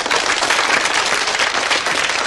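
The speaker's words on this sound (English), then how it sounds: "Give them a round of applause." Studio audience applause on a 1979 TV science programme: a thick, even wash of many hands clapping at close range for a little over two seconds, with no voices.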